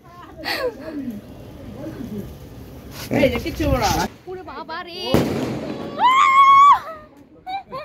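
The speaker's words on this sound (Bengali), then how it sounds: "যতগুলো ফাটানো হয়েছে আতশবাজি, এটা অনেক সুন্দর হয়েছিল লাস্ট ওয়ান" Fireworks burst at night during an outdoor barbecue gathering, with sharp crackling blasts and a rising whistle-like tone among excited nearby voices talking between the bursts.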